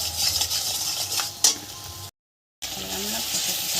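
Fish curry masala with turmeric sautéing in a pan for rui macher jhal, a steady sizzle with stirring scrapes and a brief clink, interrupted by a short gap of silence before the frying resumes.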